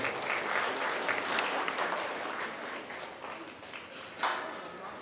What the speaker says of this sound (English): Let's give this young lady a round of applause for a really nice go here